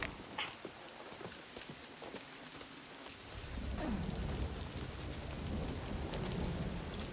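Steady rain falling in a forest in the video game Star Wars Outlaws, a dense hiss of drops that swells louder partway through, with low rumbling underneath suggesting distant thunder, no voices.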